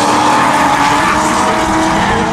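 BMW M3 E46 drift car at a drift show in Alsace, France: a loud, sustained engine roar at high revs, close and continuous, with a rasping exhaust note and no pauses.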